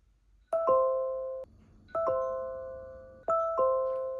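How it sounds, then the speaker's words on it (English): An Aqara doorbell chime rings a two-tone ding-dong three times in a row, each clear and sustained before fading, with short quiet gaps between. "when the doorbell button is pressed, only the Aqara chime will ring"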